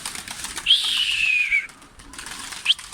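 A brief flurry of wing flapping as pigeons lift off, with a thin whistling tone over soft background noise, close by.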